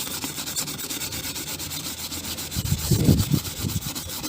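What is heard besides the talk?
scrubbing printed design off a paint mug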